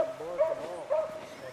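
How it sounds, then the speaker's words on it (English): A beagle hound on a rabbit trail outdoors gives two short baying barks, moderately close, with faint background between them. "You think she's barking off a little bit?"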